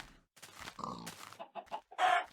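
Chickens in Minecraft cluck in a quick series of short, clipped calls with brief gaps, ending on a louder squawk, heard alone without talk.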